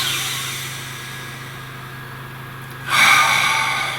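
A single deep breath, a long slow exhale that fades out, then a sharper, louder intake near the end, heard close against a quiet background hum.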